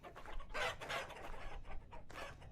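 Hens cluck in the survival game Vintage Story, several short throaty bursts in quick succession, fairly close and clear with no talk over them.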